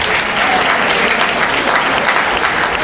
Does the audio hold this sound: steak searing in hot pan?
no